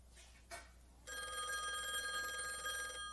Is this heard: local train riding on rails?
no